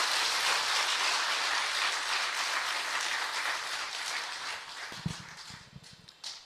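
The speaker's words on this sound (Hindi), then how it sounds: "जोर से ताली बजाएं" A live audience at a spiritual gathering claps loudly and continuously, a dense steady wash of applause that thins toward the end, with a few sharp nearby thumps in the last seconds.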